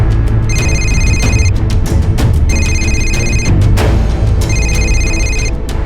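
A telephone rings in repeated bursts of bright electronic trilling, three rings spaced evenly over a low background hum, loud and close.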